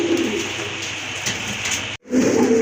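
Pigeons at a bird market coo in low, throaty murmurs over steady background noise, with a brief dropout partway through.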